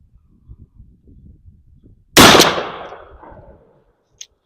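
A single loud, sharp blast from an HS-6 12 gauge shotgun firing #1 buckshot at a range rings out mid-clip with a trailing echo, after faint quiet shuffling and followed by a small click.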